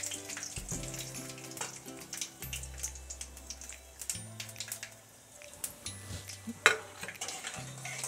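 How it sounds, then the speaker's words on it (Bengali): Dried red chillies and nigella seeds sizzle in hot oil for a radish stir-fry, a steady close crackle and hiss with occasional stirring clinks and no talk. "এবারে দুটো শুকনো লঙ্কা ফোড়ন দিলাম, কালো জিরে ফোড়ন দিলাম"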